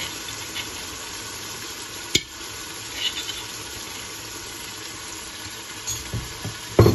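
Meat frying in a pot with ginger paste just added, a low steady sizzle with occasional stirring knocks and scrapes, one sharp clack near the start and louder scraping at the end, no talk.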